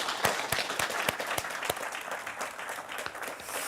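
A small audience claps for a contestant at a pitch competition finale, with a few distinct close claps standing out over softer, scattered clapping.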